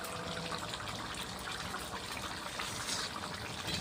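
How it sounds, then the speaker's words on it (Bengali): Water poured into a cooking pot of bamboo shoot and chicken curry, a continuous close gushing splash lasting a few seconds with no voices. "আর একটু জল দেবো।"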